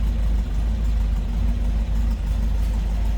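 A 1971 MG MGB convertible's inline-four idles steadily with a stock exhaust, a continuous low rumble heard close and alone, with a few slight dips in the rhythm.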